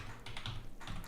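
A computer keyboard gets a brief quiet burst of typing, a few soft clicking keystrokes close by, with no voice over them.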